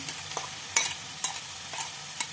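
Grated bottle gourd stirred in hot ghee in a pan for halwa, a low sizzle under regular scraping stirs about every half second, close and alone.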